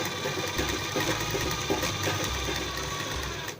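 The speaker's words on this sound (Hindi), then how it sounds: "और सिलाई लगा ऐसे फटाफट" A sewing machine runs steadily through the hem of a silk midi dress, a close, continuous mechanical whir with a rapid stitching rhythm and no voices.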